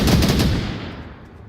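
Gunfire in the VR shooter Onward during a competitive match: a loud, rapid automatic burst up front that quickly dies away into a fading echo, with no talk.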